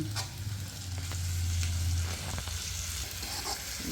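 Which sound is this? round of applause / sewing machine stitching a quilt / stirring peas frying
stirring peas frying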